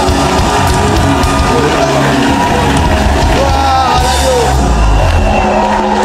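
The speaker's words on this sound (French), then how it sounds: "acclamez très fort le Seigneur" A church congregation at the Temple de la foi cheers and shouts loudly, a dense, sustained roar of voices and whoops that fills the room without pause.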